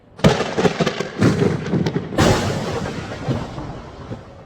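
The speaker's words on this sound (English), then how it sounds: "lightnings," Lightning sound effect made for game sound design: loud, sharp crackling strikes, then a heavier crash that rolls off into a fading rumble.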